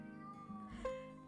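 A hungry cat meows loudly, one drawn-out insistent call rising near the end, close and clear with no talk over it.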